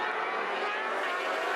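A racing motorcycle with a BMW engine blasts past on the straight at an FIM Asia Road Racing Championship round in Zhuhai, China, a loud, sustained engine roar filling the scene without talk.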